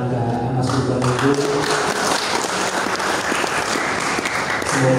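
An audience claps steadily and loudly at a halal bihalal gathering, with dense, sustained applause throughout.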